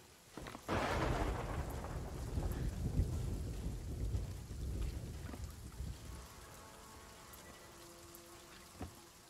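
A storm in a pirate ship video game opens with a sudden close thunderclap that swells into a long rolling rumble over steady rain, then eases off, leaving rain and a faint tonal hum with one more sharp crack near the end.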